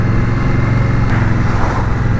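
An Indian Scout Bobber motorcycle engine runs steadily while being ridden, giving a loud, continuous low rumble with no pause across the whole stretch.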